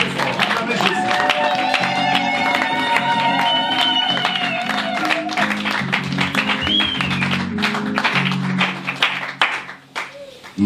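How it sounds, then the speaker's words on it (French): A congregation claps and cheers loudly at a pastor's ordination service, steady dense applause with shouts and music-like tones running throughout, fading briefly near the end. "Acclamez très fort. Acclamez Jésus."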